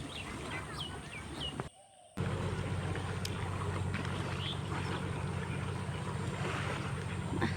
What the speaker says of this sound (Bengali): নৌকা আসতেছে।